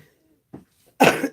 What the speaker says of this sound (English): I heard him coughing.